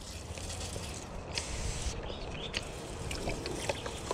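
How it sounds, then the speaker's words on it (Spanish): A garden hose soaks potted cactus plants, giving a faint, steady hiss and patter of spraying water with small irregular splashes throughout. "agarro la manguera y riego completamente mis cactus"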